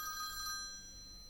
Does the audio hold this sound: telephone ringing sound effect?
yes